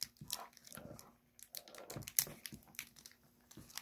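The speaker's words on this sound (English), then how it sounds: "Taking the X-Acto blade, cutting the plastic, then we're going to pull it to rip it." Plastic packaging on a Play Arts Kai Final Fantasy VII Remake Shinra security officer figure being sliced with an X-Acto blade and torn, a string of close, crinkly snips and crunchy rips with no talking.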